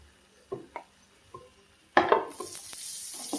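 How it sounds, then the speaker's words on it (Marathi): Ground masala paste sautéing in hot oil in a pan for a brinjal curry, with soft stirring clicks and a sudden louder sizzle partway through that keeps hissing steadily to the end. "आता वाटलेलं वाटण याच्यामध्ये टाकून घ्यायचे आणि छान असं तेलामध्ये परतून घ्यायचे"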